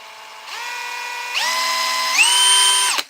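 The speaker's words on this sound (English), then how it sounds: "I leave it in drill mode and I use my trigger." A cordless drill in drill mode whines steadily, its motor pitch stepping up in stages as the variable speed trigger is squeezed harder, then cutting off abruptly; loud and close with no talking.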